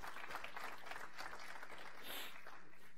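A church congregation applauds during a sermon, a steady wash of clapping from many hands across the whole stretch, fairly faint and distant, with no speech over it.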